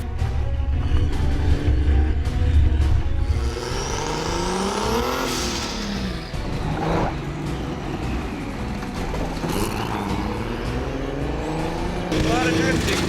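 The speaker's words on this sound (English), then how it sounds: "A lot of drifting." A 2015 Subaru Legacy drifting and revving loudly nearby, its engine roaring with rising and falling pitch over continuous tire noise, while people talk excitedly.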